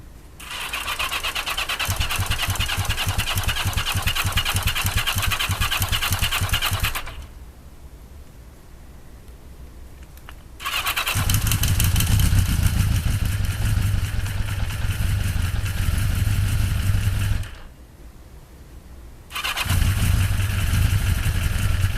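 A 1981 Yamaha XJ650 motorcycle engine cranks and starts, then idles loudly with a steady low rumble. It cuts out and restarts twice, with short quieter gaps between the runs.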